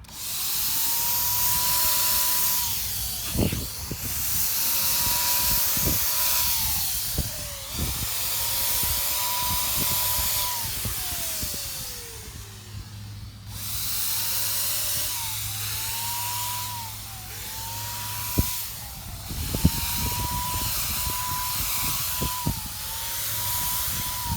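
An airless paint sprayer coats wooden bee equipment, its steady hissing spray layered with a whining pump that rises and falls in repeated cycles, with clanks and knocks now and then, close and continuous.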